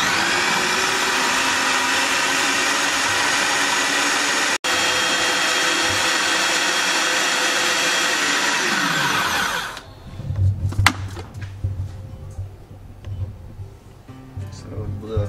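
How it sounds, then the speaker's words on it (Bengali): A blender runs loud and steady on Turkish pizza ingredients mixed with olive oil, its motor whine holding for about ten seconds before winding down, followed by clattering and a voice talking. "এখানে এবার এটাকে ব্লেন্ড করে নেব।"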